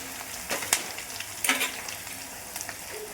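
A chili, garlic and coriander paste with ginger, followed by curry leaves, hits hot oil with a soft, steady sizzle, broken by a few louder crackling bursts.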